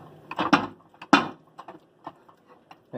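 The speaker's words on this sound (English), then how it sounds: "So you wanna stir this a little bit." A utensil stirring pasta in a pot, giving a few sharp clacks and light irregular taps against the pot, close by and fairly sparse.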